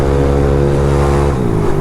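Yamaha NMAX V1 scooter engine, bored up from 155cc to 183cc, holds a loud close steady idle hum with a slight pitch dip near the end.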